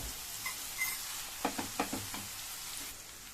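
Onions frying in oil with a pinch of salt in a kadai for a mixed-vegetable dish, giving a soft, steady sizzle with a few close spoon scrapes and stirring clatters in the middle.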